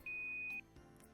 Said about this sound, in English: The oven beeps, informing us that it's finished its warming cycle.